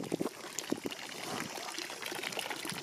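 Water trickles and splashes steadily nearby, a soft continuous pouring with a few louder drips near the start, no voices.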